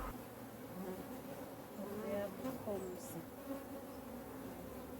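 African honey bees buzz steadily nearby around their hive, a droning hum with a few individual insects passing closer, under low background noise.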